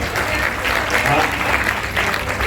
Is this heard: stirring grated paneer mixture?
no